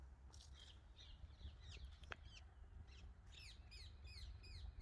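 Birds chirp and call in quick bursts, distant and fairly faint, with a run of repeated tweets near the end over soft outdoor hum, in a garden with succulents in Germany.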